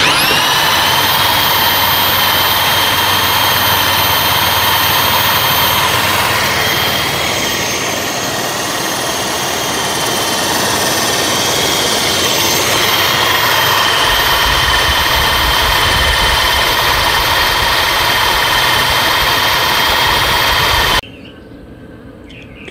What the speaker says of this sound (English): just use my old Black & Decker